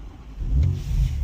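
A BMW Z4 M40i engine fires up and climbs into a rev, a steady low rumble swelling louder midway and holding, close by with no talking.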